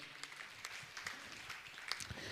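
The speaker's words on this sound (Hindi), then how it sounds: "मैं चाहूँगा इनके सम्मान में आप जोरदार ताली बजाकर इनका सम्मान करें" Applause from an audience at a Jain religious gathering with Muni Shri Praman Sagar, a faint, steady patter of many hands clapping together without a break, heard at a distance.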